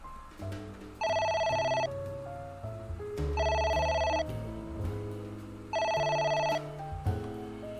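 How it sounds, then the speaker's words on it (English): An electronic phone rings in three bursts, each about a second long, in the video game AI: The Somnium Files, over quiet game music and ambient tones, with no voices. "What was that? A phone."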